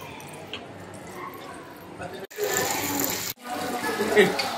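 Water gushes steadily from a tap left open, a continuous close hiss that grows louder midway, with people talking nearby.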